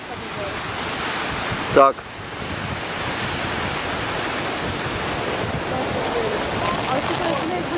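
Black Sea waves and surf wash steadily against the rocky shore at Cape Tarkhankut in Crimea, a continuous broadband roar with one brief thud early on, as a person says a single word over it.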